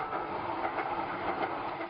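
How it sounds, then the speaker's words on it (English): A Los Angeles Metro light rail train on the line to Santa Monica runs along with a steady rumble and soft rhythmic clatter of wheels, heard from on board without talk. "He took us for a ride on the new train to Santa Monica that's been dubbed the subway to the sea."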